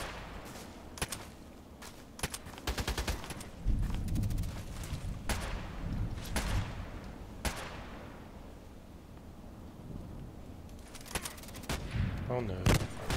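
Repeated sniper rifle shots in an online shooter game, sharp cracks spaced irregularly across the stretch with a couple of clustered bursts, loud and close over a constant busy background.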